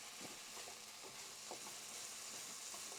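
Tomato rasam simmers in a pot while a spoon stirs it a couple of times, soft scraping strokes in a loose rhythm over a faint steady bubbling hiss, quiet and close.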